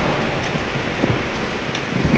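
Heavy rain pours steadily in a village backyard, a dense, loud, unbroken hiss with a few heavier drops and thuds standing out.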